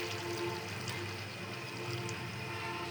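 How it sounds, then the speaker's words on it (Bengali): A little water is poured into a cooking pan of tengra fish with tomato, giving a steady, close hiss and wash of liquid that runs evenly for a few seconds with no one speaking. "একটু পানি দিয়ে দিব।"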